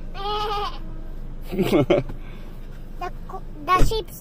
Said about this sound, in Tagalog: Mommy, the goat is saying that.